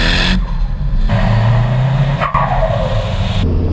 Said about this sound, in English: Oh, I like the turbo sound.